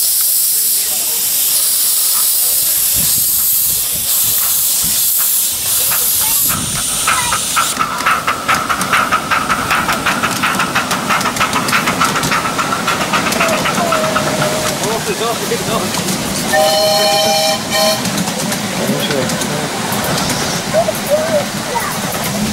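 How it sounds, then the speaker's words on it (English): A miniature Flying Scotsman 4472 steam locomotive departs, opening with a loud steam hiss and then settling into rhythmic chuffing with whistle-like tones as people talk nearby. "Here goes Flying Scotsman."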